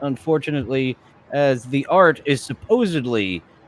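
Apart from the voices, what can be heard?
No distinct noise like a dog, phone or traffic.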